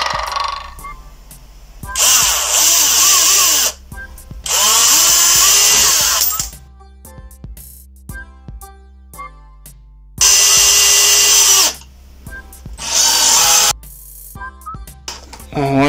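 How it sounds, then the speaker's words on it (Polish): A power drill drives long screws into pressure-treated scrap wood for a planter, four loud whining bursts of a couple of seconds each separated by quieter handling pauses. "Tu skręcę na te dłuższe wkręty."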